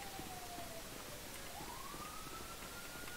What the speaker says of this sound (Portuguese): Vem pra cá, viatura da PM.